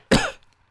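One sharp, close cough from an old doctor in a dramatic reading, loud and abrupt, trailing off quickly into silence.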